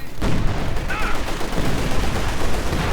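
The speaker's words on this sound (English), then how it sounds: "sector artillery straight down on the T-34" Sector artillery in Company of Heroes 2 pounds down on a T-34 tank, a dense, continuous roar of overlapping blasts and rumbling explosions that stays loud and steady throughout.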